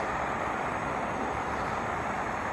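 A JetBoil camping stove burner roars steadily at full flame, a loud, even broadband rush that holds without a break from start to finish.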